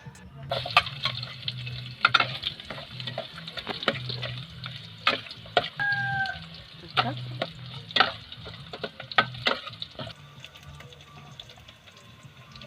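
Spices sauté in hot cooking oil in a pan, with a soft continuous sizzle broken by repeated sharp scrapes and clinks of stirring, close and fairly loud throughout.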